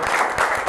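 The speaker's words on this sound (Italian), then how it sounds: "un applauso a Enrico." A brief burst of steady crowd applause for Enrico Boni, vice president of the regional CONI of Veneto, at a sports promotion meeting, dense and fairly loud throughout.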